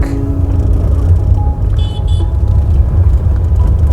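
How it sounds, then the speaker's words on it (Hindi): Heavy road traffic in Dehradun, India, rumbles steadily and loudly, with engine noise and a few brief horn toots from passing scooters, bikes and cars close by. "देहरादून में ट्रैफिक की बुरी हालत है, इतना ट्रैफिक"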